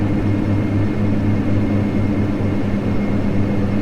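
A Dash 8 Q400 turboprop climbing after takeoff in a flight simulator game gives a steady droning engine hum with a constant low propeller tone, even and unbroken, with no voices.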